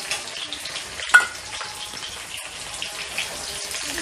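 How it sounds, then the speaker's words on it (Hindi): Garlic and ginger frying lightly in oil in a wok, a soft, steady sizzle with faint bubbling and a small clink near the start, fairly quiet throughout. "सबसे पहले लहसुन को अदरक को थोड़ा हल्का सा फ्राई कर लेंगे"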